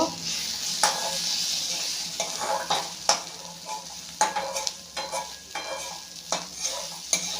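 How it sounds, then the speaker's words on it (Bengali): Spices with turmeric fried in a pan for chicken kosha, stirred in a rhythmic series of spatula scrapes and clinks over a bright, steady sizzle, close and loud, no speech. "এবার নাড়াচাড়া করব"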